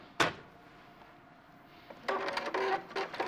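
A sewing machine used for quilting and foundation paper piecing gives a brief sharp clack, falls mostly quiet, then runs in a rapid mechanical stitching burst toward the end, close and moderately loud with no talk.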